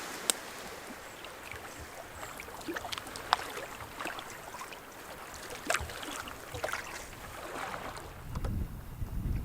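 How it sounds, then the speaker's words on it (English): Paddle strokes from a small boat moving through a harbor, soft splashes and drips against wind and water noise, with a few sharper knocks. "Paddling within the harbor again today."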